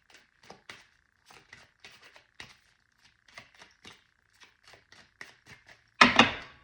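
Tarot cards shuffled by hand, a run of light, quick papery flicks and taps at an uneven pace, fairly close, ending in a louder slap as the shuffling stops.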